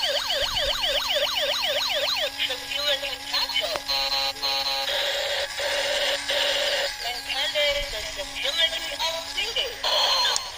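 A toy city emergency ambulance wails its electronic siren, rising and falling in rapid sweeps at close range, then switching to shorter pulsing tones, with a steady hum and occasional clicks underneath.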